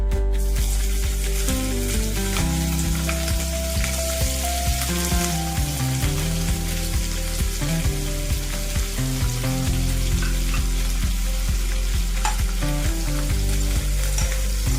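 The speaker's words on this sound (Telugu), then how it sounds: "ఆయిల్ వేడయిందండి. ముందుగా క్లీన్ చేసి పెట్టుకున్న నెత్తళ్ళని వేసుకుంటున్నాను." Cleaned dried fish (nethallu) for a brinjal dry fish curry goes into hot oil and fries with a steady, loud crackling sizzle. The sizzle continues without a break over a continuous tonal background.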